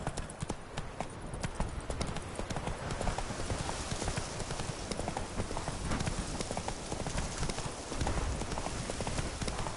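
Roach, a horse in The Witcher 3, gallops in a fast, steady clip-clop of hooves that stays close and continuous, with game sounds around it.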